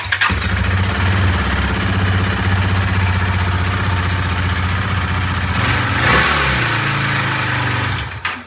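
A motorcycle engine, a December 2021 model bike, revs loud and close, holding a high, rising whine for several seconds before dropping back and then cutting off.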